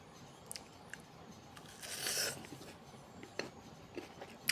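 Salted raw green mango being bitten and chewed up close, with crisp crunchy bites and wet chewing clicks scattered over a quiet background, a louder burst of crunching in the middle.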